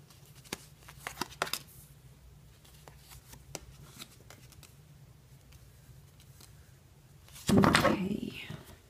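Tarot card decks being shuffled, with light scattered flicks and taps, then a loud riffling burst near the end. A voice talks quietly in the background.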